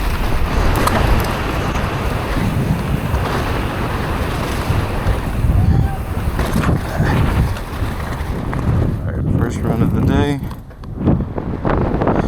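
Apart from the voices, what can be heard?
strong wind at a mountain bike park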